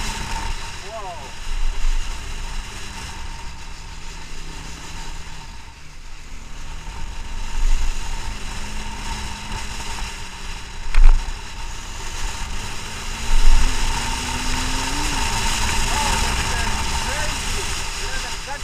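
A Bajaj Dominar 400 motorcycle engine runs steadily under wind rush, a low droning hum with a few brief rises in pitch as it is revved.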